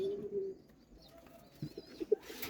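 Pigeons coo softly nearby, a few low throaty calls over faint background noise, with a brief rustle at the end.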